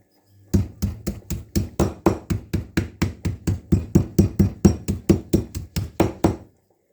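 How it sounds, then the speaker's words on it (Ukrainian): Steady, even thuds of a mallet pounding chicken thigh meat covered with plastic wrap, about twenty blows in a regular rhythm, close and fairly loud, then stopping. "Накриваємо зверху харчовою плівочкою і відбиваємо молоточком ось таким або е, качалочкою."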